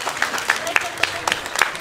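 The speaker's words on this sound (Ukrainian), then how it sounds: "Аплодуємо цій юній майбутній артисті" Scattered applause from an audience at a Ukrainian Independence Day charity concert in a village, supporting the armed forces; uneven individual claps with a crowd murmur and voices mixed in.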